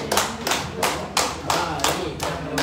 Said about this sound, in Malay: silakan bagi tepukan ke buruh